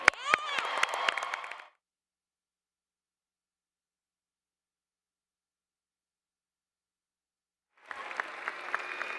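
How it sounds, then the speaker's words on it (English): Convention hall applause at a national FFA session comes in two short bursts separated by several seconds of silence, crisp clapping fairly loud at first and again near the end. "Let's give them one more large round of applause."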